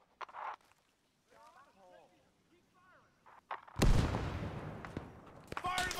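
A frag grenade in ArmA 3 S.O.G. Prairie Fire, a Vietnam War jungle setting, bursts as one loud, close, broadband explosion partway through, after quieter stretches with a faint voice and scattered ambient noise. A rumbling tail follows.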